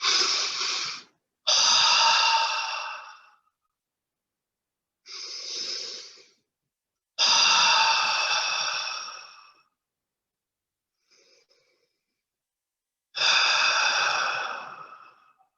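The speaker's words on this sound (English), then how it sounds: "breathing in through your nose and breathe out through your mouth" Slow, deliberate breaths drawn in through the nose and released through the mouth during a guided relaxation exercise, five long, loud airy exhales and inhales separated by pauses, with no talking.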